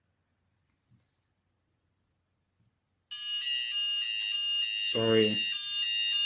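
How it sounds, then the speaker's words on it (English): An electronic alarm buzzer on a homemade C serial communication project sounds a loud, steady tone that starts abruptly halfway through and holds to the end, after near silence with a couple of faint clicks; a voice briefly speaks over it. "Now I want to make the alarm inactive."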